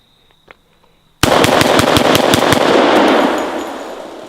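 A double-barrel 1911 pistol fires a fast string of about ten sharp, loud shots in close succession, each with a crack and echo, followed by a decaying ring.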